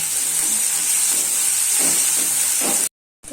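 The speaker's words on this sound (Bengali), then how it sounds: "পেঁয়াজ আর মশলাটা একটু লাল লাল করে ভেজে নেব।" Onion, spices, ginger-garlic paste and green chillies fry in a pan, giving a loud, steady sizzling hiss that cuts off abruptly near the end.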